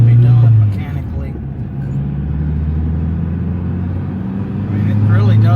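A used car runs and drives down the road with a steady low engine rumble and shifting tone, as someone talks over it.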